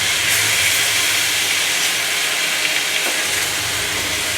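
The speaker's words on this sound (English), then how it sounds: "So I'm going to go ahead and keep mixing this up, because I don't want it to stick to my pan" Chicken stir-fries in an oiled pan, likely with pineapple, producing a loud, continuous broadband hiss of hot sizzling that holds steady throughout, with faint scraping as the pieces are kept moving.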